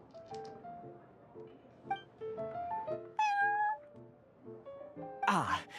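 Prince, a cat in Genshin Impact, gives a run of bright, tonal meows over soft game music and light chime-like clinks. A louder burst of noise comes at the end.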